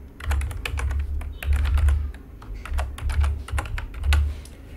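A computer keyboard is typed on quickly and steadily, with rapid close key clicks in short bursts as a file name is entered, and no one talks.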